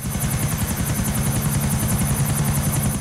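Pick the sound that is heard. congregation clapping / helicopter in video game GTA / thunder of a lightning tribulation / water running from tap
helicopter in video game GTA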